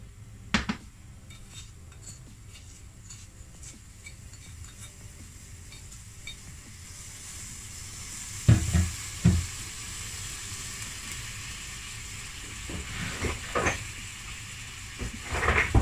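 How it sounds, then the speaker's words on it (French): Sugar and water cooking into caramel in a pan, a faint, steady sizzle under a quiet bed of noise, broken by a few sharp clinks and scrapes of utensils against the pan. "Là, on va faire notre caramel."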